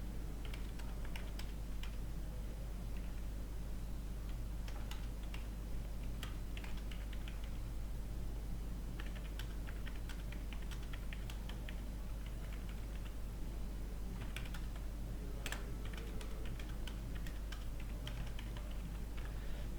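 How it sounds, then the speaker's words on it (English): Steady typing on a computer keyboard during an Excel spreadsheet session, dense clicking keystrokes running throughout over a constant low electrical hum, with no talking. "I'll type some grades."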